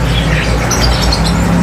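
A lutino red-eyed Australian parakeet (budgerigar), large-bodied and semi-tame, chirps in a steady run of high, close tweets over a continuous low hum of background noise.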